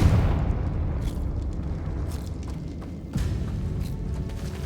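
A Confringo fire-blast spell explodes in Hogwarts Legacy with a loud, deep boom at the start that decays into a rumbling roar, followed by a second thudding burst about two-thirds through, no talk over it.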